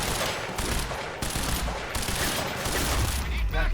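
Enemy shotgun gunfire in Quantum Break booms in loud, heavy bursts amid chaotic combat noise, several blasts in quick succession close by.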